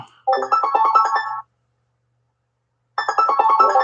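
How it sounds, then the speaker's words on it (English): A mobile phone ringtone plays two bursts of bright, rapid melodic tones, clear and close, separated by about a second and a half of silence. "Oh, that's my phone going off."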